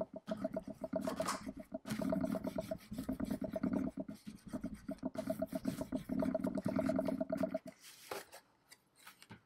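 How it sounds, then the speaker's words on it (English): A tool is rubbed firmly along a score line on paper while making a pop-up storage box. The close, rasping strokes come in quick rhythmic runs with short pauses and then stop near the end. "and burnish it down."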